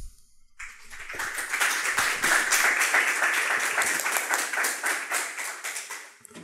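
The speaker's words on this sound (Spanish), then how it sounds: "recibamos con fuertes aplausos." An audience at a lecture on Quechua literature at the Casa de la Literatura Peruana bursts into applause to welcome the speaker, a close roomful of distinct claps that swells, holds, then thins out.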